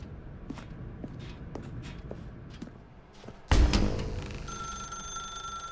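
A telephone rings in The Stanley Parable: Ultra Deluxe, a sudden loud onset after soft footsteps, then a steady electronic ringing tone held through the end of the clip.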